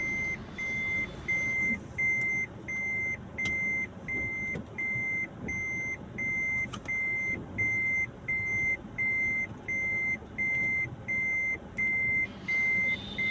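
A Toyota Allion car backing slowly in reverse gear, its reversing alarm beeping in an even, repeating rhythm of about one beep per second over a low engine rumble.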